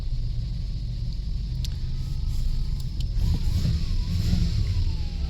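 An old Oldsmobile-Buick car engine with 78,000 miles idles with a rough, steady rumble, close by, with a few faint clicks and a slight rise in revs toward the end.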